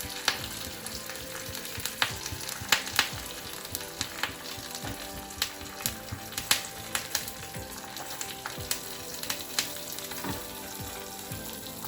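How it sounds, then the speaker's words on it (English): Chili leaves hitting hot cumin-seed oil in a pan, a dense continuous sizzle and crackle with scattered stirring clicks, close and steady, no voices. "Our jeera has nicely got heated up. Put in the chili leaves."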